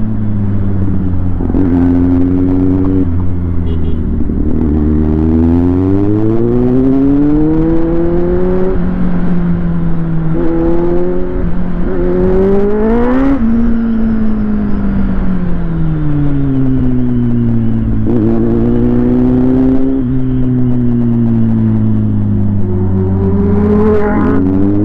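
A Kawasaki Z800 or Benelli 600 motorcycle engine runs loud and steady, its pitch swinging up and down as the throttle is repeatedly blipped and eased, with no talk over it.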